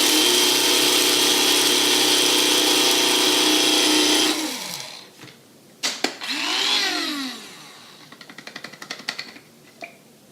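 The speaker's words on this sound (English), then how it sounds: "You can get one of these little coffee grinders." A small coffee grinder whirs loudly and steadily for about four seconds while grinding flax seed into meal, then stops, followed by a few knocks and light rattling taps.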